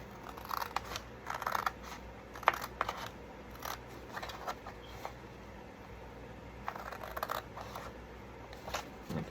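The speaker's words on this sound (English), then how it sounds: "And let's cut that." Scissors snip through a FedEx envelope in short, uneven bursts of close crisp cutting, with quiet pauses between the cuts and no talking.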